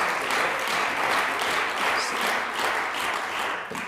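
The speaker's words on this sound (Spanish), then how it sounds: "ustedes aplaudían con la misma fuerza con la que aplauden ahora" Sustained, dense applause fills a parliament chamber during a plenary session of the Aragon regional assembly, loud and steady throughout with no voices over it.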